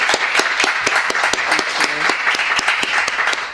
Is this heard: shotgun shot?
no